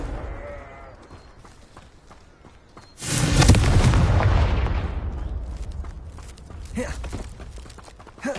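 A loud Confringo fire spell explosion in Hogwarts Legacy, a sudden heavy blast that roars and slowly fades over several seconds, followed by quieter rumbling and faint footsteps.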